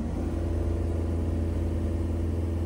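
Close, loud VW Golf 2.0 TDI diesel engine at raised revs, a steady rumbling drone held at an even level for the whole stretch, with no voices.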